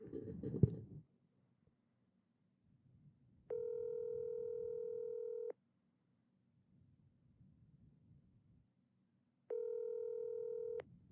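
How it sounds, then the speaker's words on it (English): A telephone ringback tone plays before a call goes to voicemail: two long, steady electronic buzzes separated by a few seconds of quiet hiss. A short click or rustle comes just before the first ring, and no one speaks. "I know Curtis would pick up"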